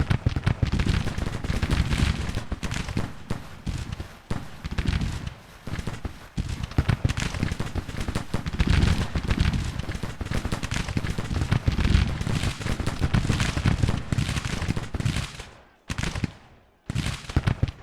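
Sustained infantry rifle volley fire in a Civil War video game: dense, overlapping crackling gunshots roll on continuously, loud and close, with a brief lull near the end before firing resumes.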